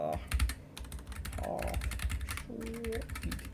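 Fast clattering keystrokes on a computer keyboard while a Linux config file is being written, steady and close, with brief tonal beeps mixed in and a voice talking faintly underneath.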